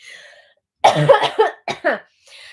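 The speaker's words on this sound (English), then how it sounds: "I need to cough before I do this." A person coughs several times in a short burst, loud and close, after a brief quiet moment.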